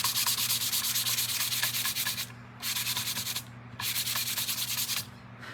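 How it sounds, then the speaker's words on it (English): Close, loud hand-sanding of a wooden pumpkin sign: a steady run of quick scratchy strokes, stopping briefly twice and then resuming, over a faint low hum. "Let's do another little sand."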